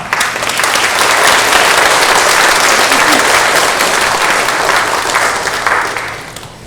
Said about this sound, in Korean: 우리 나오실 때 환영의 박수로 우리 맞이하겠습니다